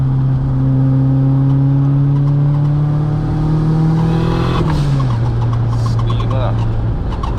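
A 260kW 16VT Mk2 GTS with a screamer exhaust revs and accelerates loudly, its pitch rising steadily before easing off into a lower drone as the throttle lifts, heard up close from inside the car.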